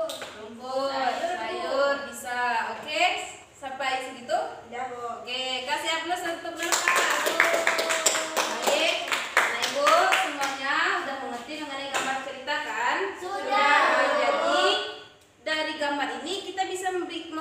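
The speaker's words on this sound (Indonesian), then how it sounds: "kasih aplaus" Classroom applause from pupils in a Grade 5 lesson, a burst of dense clapping in the middle of the clip, with children's voices and a teacher's speech around it.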